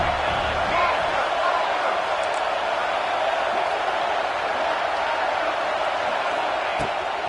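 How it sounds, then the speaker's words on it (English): A college football stadium crowd at Saban Field roars steadily on third down against Oklahoma, a dense, loud, unbroken wall of noise that holds for the whole stretch. "Crowd rolling noise down onto Saban Field on 3rd down."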